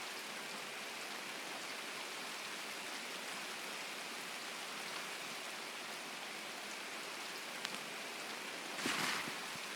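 Steady rain falls in the game SPT (Escape from Tarkov), a constant broadband hiss across the whole stretch with a few faint ticks and a brief louder burst near the end; no one speaks.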